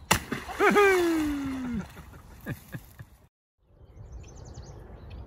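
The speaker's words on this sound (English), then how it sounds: "Watch the splash." Handled logs are dropped from the woods into a park pond, giving loud watery splashes and sloshing outdoors, with a voice calling out over the first splash and birds faintly chirping afterward.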